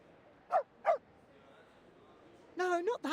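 A border collie in the video game Reverse: 1999, during the Rimmick Cup event story, gives two short, sharp barks close together, followed by a moment of quiet before a voice begins speaking.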